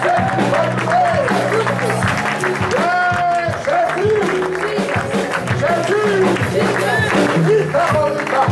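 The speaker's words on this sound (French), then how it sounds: "On applaudit Jésus." A church congregation applauds in a dense, continuous wash of clapping, mixed with voices, singing and cheering throughout.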